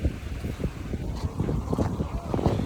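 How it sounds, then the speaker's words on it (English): Strong wind buffets the microphone out on open water off Belize under an overcast sky, gusty low rumbling with a boat and waves faintly beneath. "It's really windy out here."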